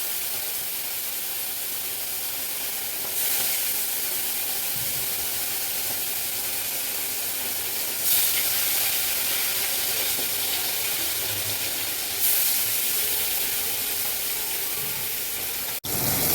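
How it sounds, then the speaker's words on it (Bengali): Rohu fish pieces sizzle in hot oil in a pan, with okra frying nearby. The hiss is steady, loud and close, and swells slightly every few seconds. "ওই যে একটাতে হচ্ছে মাছ ভাজা, আর এখানে হচ্ছে গিয়ে ভেন্ডি ভাজা"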